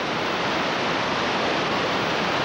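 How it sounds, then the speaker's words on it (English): Rushing river water pours through a gorge in a steady, loud, dense roar, close by and continuous with no voices over it. "Look at that water flow."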